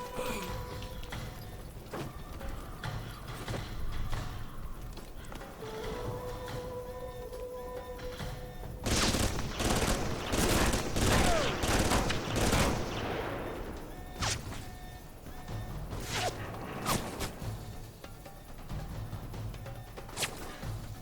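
Gunfire in the video game Alpha Protocol: a dense cluster of sharp shot bursts erupts mid-clip over steady game ambience, with scattered single shots before and after.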